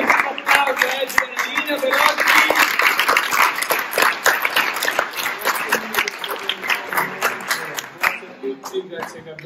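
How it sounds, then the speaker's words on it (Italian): Audience applauses after an Italian interview with dancers, dense clapping spread across the full stretch with a few louder individual claps, tapering slightly near the end. "Applauso"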